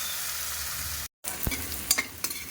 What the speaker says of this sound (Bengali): এখানে ফ্রায়েড রাইসের জন্য ক্যাপসিকাম আর গাজরটা ভেজে নিলাম একটুখানি ঘিয়ের ভেতরে